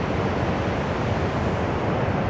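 A waterfall in the Norwegian mountains, heard as a steady, dense broadband rush of flowing water, moderately loud and unbroken, with no voices.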